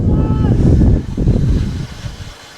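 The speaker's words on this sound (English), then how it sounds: "I can't get away from a game at the moment without there being wind" Wind buffeting the microphone at an outdoor under-20s league football match on a chilly day, heavy low rumbling gusts that ease and return over a few seconds, with no talk.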